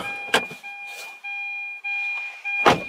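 A Hyundai i10 key-in-ignition warning chime sounds as a steady electronic bing tone that holds for several seconds, with a few louder clunks and knocks at the start and end.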